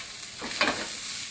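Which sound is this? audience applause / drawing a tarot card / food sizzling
food sizzling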